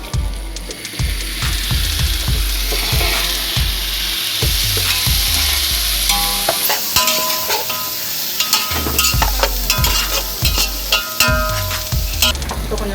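Chopped tomatoes sizzle in a pan for chicken biryani on a rocket stove, with steady frying hiss and repeated scraping stirs in a regular rhythm throughout, close and loud.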